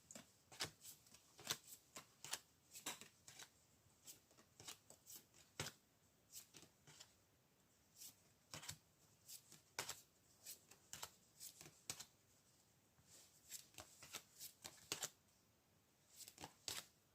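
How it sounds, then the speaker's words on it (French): Tarot cards being shuffled close up in short, crisp riffling bursts with brief pauses between them, quiet and with no talking. "on peut essayer de mélanger les cartes ici pour avoir des informations sur ces obstacles et défis"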